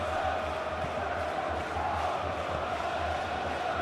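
Dense, steady roar of a large stadium crowd cheering in the PES 2021 football game during an Arsenal match, with a continuous wash of voices and no clear breaks across the whole stretch.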